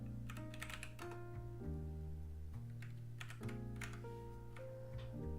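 Keys clatter on a computer keyboard in quick, uneven bursts, faint and close, over a steady background hum.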